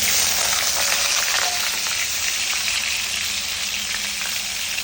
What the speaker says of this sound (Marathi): चांगला फ्राय करून घ्यायचा आलूला